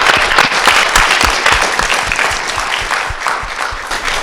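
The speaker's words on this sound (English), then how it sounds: "help me give these beautiful young ladies a round of applause" An audience at a Funky Friday talk show gives a round of applause, a loud, close burst of dense clapping that stays strong, then thins slightly, heard alone without voices.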